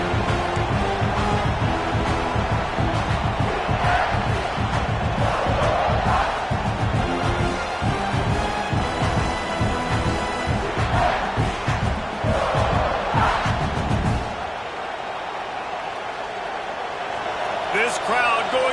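A large football crowd at an Oregon scrimmage roars loudly and continuously, swelling with cheers, before dropping to a quieter murmur near the end.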